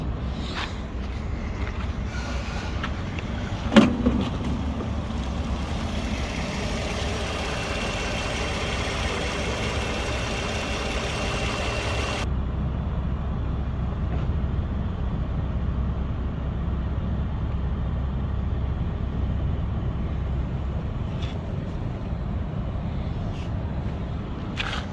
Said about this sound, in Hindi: अभी हमने स्कैनर से जो कंप्रेसर को ऑन किया है, अभी कंप्रेसर का क्लच काम कर रहा है